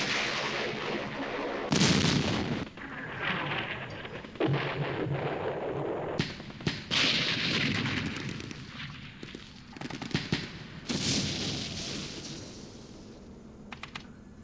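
Artillery fire in a war strategy game set in the Middle East, heard as repeated booming blasts and cracks in bursts across the stretch, some close and loud and others duller and more distant, with no talking.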